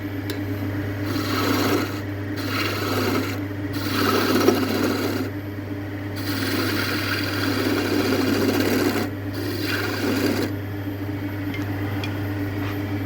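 Wooden Christmas tree being turned on a lathe with a skew chisel, a steady rasping scrape of the cutting edge on spinning wood over a constant low motor hum, broken by short pauses as the tool lifts away.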